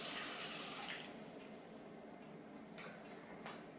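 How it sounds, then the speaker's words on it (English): Cooled spiced vinegar pours over sliced cucumbers in a soft, steady liquid trickle, close by, with a small clink partway through. "I'm going to pour those over our cucumbers"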